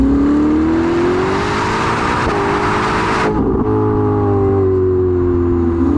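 Ferrari SF90 supercar with Novitec parts accelerating hard, its engine a loud, steady, rising roar with a brief shift partway through, heard up close with no talking.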